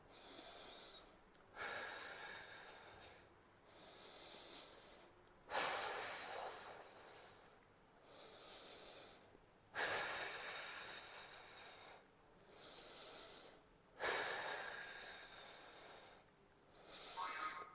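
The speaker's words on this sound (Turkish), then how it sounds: "Nefes alıp vermeye de devam." Slow, steady breathing in and out while holding a plank exercise, a repeating cycle of long audible breaths every couple of seconds, close but quiet.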